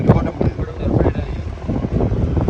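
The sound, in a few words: fishing boat engine running at sea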